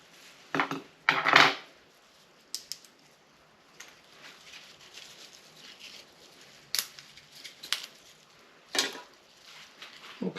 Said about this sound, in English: And I use the scissors and see if I can make this a little bit narrower.